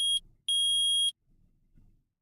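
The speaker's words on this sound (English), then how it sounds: "Oh, it's gonna be a loud beep." Metal detector in the Phoenix Wright: Ace Attorney video game gives two loud, high electronic beeps, the second held longer, then a faint low murmur follows.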